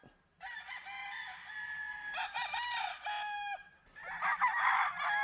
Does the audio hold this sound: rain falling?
no